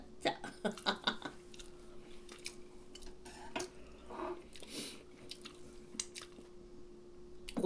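Soft, close chewing of a cheese pork cutlet lunchbox, with wet squishy bites and small clicks scattered over quiet background and a faint steady hum.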